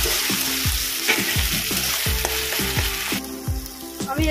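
Tomato fries in a pan with ginger-garlic paste while a spoon stirs it, giving a constant sizzle broken by repeated close scraping knocks against the pan. No one speaks.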